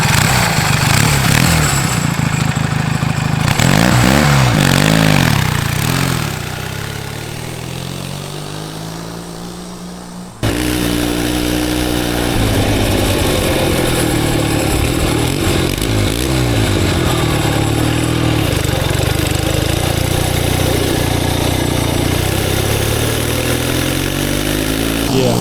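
Twin-cylinder, four-speed mini bike built from junkyard parts, its engine running loud and steady while being ridden, with a drop in level partway through, a sudden cut, then a sustained drone with rising and falling pitch as it moves off.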